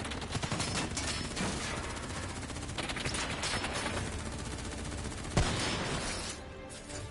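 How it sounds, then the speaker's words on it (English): Rapid video-game gunfire, dense automatic bursts crackling through a busy, loud battle mix, with one sharper close crack near the end before the shooting thins. "Who's shooting?"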